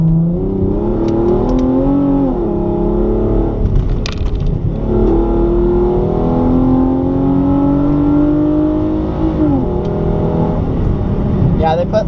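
A car engine hums and surges loudly as it climbs a hill, its pitch rising and dropping while the driver lets off the gas, heard from inside the cabin with someone talking over it.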